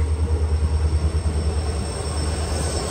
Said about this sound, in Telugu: సిల్చార్ అగర్తల సిల్చార్ ట్రైన్ కి కుమార్ ఘాట్ నుంచి బయలుదేరిపోయింది మన ట్రైన్.